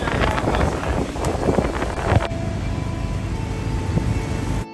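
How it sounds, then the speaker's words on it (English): Strong wind buffets the microphone with roaring, rumbling gusts at a drag strip, heaviest early on, then a steadier whooshing backdrop. "the wind gusts picked up and were strong enough to start blowing tents, canopies, and sponsor signs"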